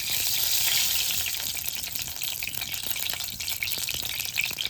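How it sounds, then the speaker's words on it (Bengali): Hot mustard oil sizzles and crackles steadily in a wok over a village clay stove, ready for frying pabda fish; a loud, continuous hiss with fine popping, no voices. "কড়াই গরম হয়ে গেছে, তেলটা দিয়ে দিচ্ছি, মাছগুলো ভেজে নেব।"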